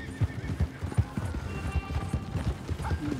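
Horse in Red Dead Redemption 2 with clear clip-clopping hoofbeats in a steady rhythm throughout and a neigh mixed in, close and fairly quiet, alongside faint mechanical creaks and rattles.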